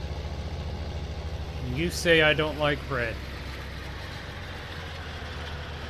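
Case tractor in Farming Simulator, its engine idling with a steady low rumble throughout, while someone speaks briefly over it partway through.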